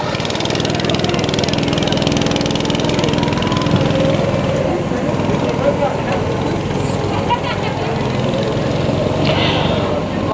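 Small kids' race car engine running steadily through a timed race at a Nigerian event, a continuous droning buzz like a lawn mower that holds close and loud for the whole stretch, with crowd noise and voices mixed underneath.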